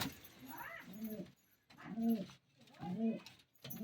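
Pigeons being fed grain coo close by in soft, repeated throaty phrases roughly once a second, with brief quiet gaps between calls.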